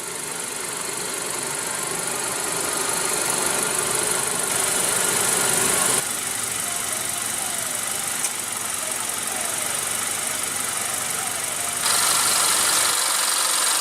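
A 2016 Honda CR-V with a 2.4-liter inline four-cylinder engine runs steadily, giving a continuous loud hum with broad hiss and wind-like noise that holds level throughout, without any talking.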